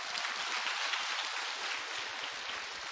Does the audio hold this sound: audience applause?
yes